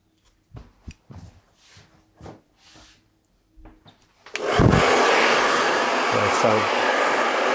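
A few soft handling taps and rustles come first, then a hair dryer switches on and blows a loud, steady whoosh of air close by through the rest of the scene.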